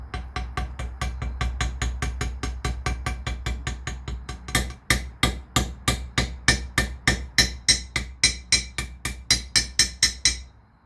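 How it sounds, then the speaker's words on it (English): Steady run of sharp metallic hammer taps, close and loud, driving a seal into a GM 8.25 differential during a rebuild, with a slight pause near the midpoint before the evenly spaced blows continue. "I think glancing blows with my hammer"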